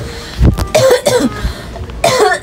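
A person coughs several times in quick, harsh bursts close by, loud and raspy, with short pauses between them.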